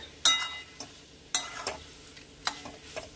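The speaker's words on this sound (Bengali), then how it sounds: "উপর দিয়ে একটু 1 চামচ মতো একটু তেল ছড়িয়ে একটু নাড়াচাড়া করে" Bathua greens being stirred in a pan with a little oil: a soft background sizzle broken by several sharp scrapes and clinks of a spatula against the pan, close and with no voices.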